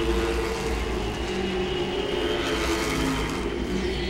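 Late model race cars roar around Langley Speedway, a loud, continuous droning engine wash with layered revving tones that stays steady and close throughout, with no talking.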